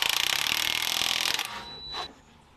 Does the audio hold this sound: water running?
no